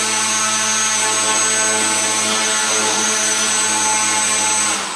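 Electric motor on a VTOL model project with a new motor mount runs steadily under a little throttle, a loud continuous whirring drone with a steady pitch and no talk.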